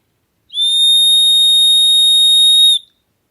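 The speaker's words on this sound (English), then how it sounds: "I'm just going to whistle for the dog." One long, steady high-pitched whistle for a dog, loud and close, held for about two seconds before cutting off.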